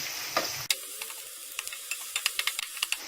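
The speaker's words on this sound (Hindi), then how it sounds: "गैस को मीडियम पे रखना और कड़छी चलाते रहने लगातार, ताकि प्याज और मसाले जले नहीं" Onions and spices fry on medium heat for rajma while a ladle keeps stirring them, close by. A quick scrape comes first, then a steady sizzle with a string of sharp ticking clicks and scrapes, and no voices.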